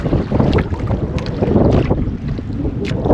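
Strong northeast monsoon wind buffets the microphone in heavy, rumbling gusts, with water sloshing around a small squid-fishing boat underneath.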